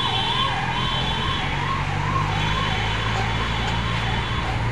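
A police car siren wails close by, rising and falling in a regular cycle about once a second over a constant traffic rumble, loud and unbroken throughout.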